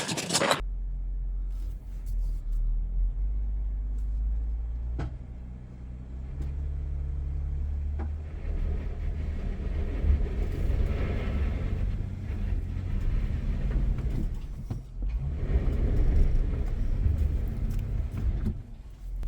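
An off-road vehicle's engine rumbles steadily nearby while towing a broken-down vehicle on desert trails in Anza-Borrego, with low droning, occasional revving swells, a brief sharp noise at the start and scraping rattles.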